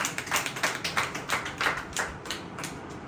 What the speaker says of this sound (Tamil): கைத்தட்டி ஆண்டவர் மகிமைப்படுத்தலாமா?